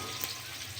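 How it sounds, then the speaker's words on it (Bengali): Potatoes frying in oil for a tilapia, potato and cauliflower curry, giving a brief, dense, steady sizzle at close range with no voices. "আলুগুলো ভালো করে ভেজে নেব।"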